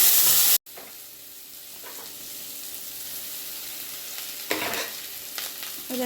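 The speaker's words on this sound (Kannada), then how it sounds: "ಅದಕ್ಕೆ ನಾನು ಇವತ್ತು ಟೊಮೊಟೊ ಹಾಕ್ಕೊಳ್ತಾ ಇದ್ದೀನಿ" Tomatoes sizzle and fry in a hot pan while being stirred, a steady hiss broken by a few scraping stirs, close and fairly loud, after a brief sharp burst and cut at the start.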